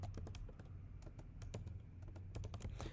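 Rapid keystrokes on a computer keyboard while JavaScript code is entered, a steady run of close, crisp clicks over a low background hum, with no talking.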